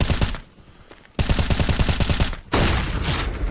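Rapid automatic gunfire from a CS:GO esports match between OG and los kogutos, loud bursts of rhythmic shots with a short lull, then a second sustained burst and a harsher volley at the end.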